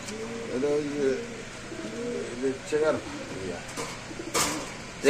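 Pigeons coo in low, throaty repeated calls nearby, several overlapping, with a brief clatter near the end, at a caged pigeon market.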